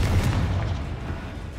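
A Confringo blasting spell explodes in the game Hogwarts Legacy, a single loud, deep booming burst that rumbles and slowly fades over under two seconds.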